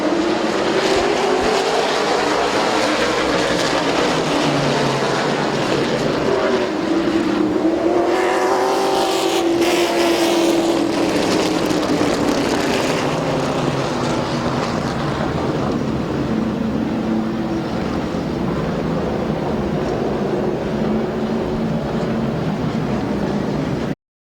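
Late model race cars racing at Midvale Speedway, a loud continuous roar of engines with a pack sweeping past mid-way, rising and falling in pitch as cars accelerate and pass, no talk heard.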